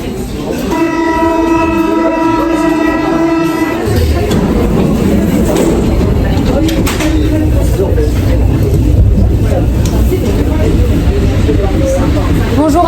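A metro train rumbles loudly throughout, with a steady horn-like tone early on before the roar of the moving car takes over.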